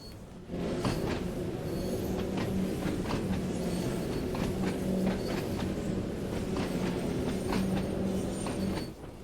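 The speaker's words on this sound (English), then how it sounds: "you can't really hear the train that much, just the sound of it on the track" A Class 31 diesel train runs along the track, its steady wheel rumble and rhythmic clickety-clack of wagons held close and loud for nearly the whole stretch, with no voices.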